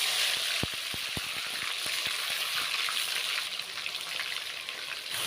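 Marinated chicken pieces dropped into hot oil with cloves, cardamom and cinnamon for homemade chicken biryani, a steady bright sizzle and spatter with a few crisp crackling pops early on, close and continuous.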